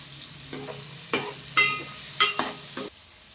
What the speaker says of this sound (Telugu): కొద్దిగా వేడైన తర్వాత దొడ్డుగా కట్ చేసుకుని ఆనియన్ ముక్కలు వేసేస్తున్నాం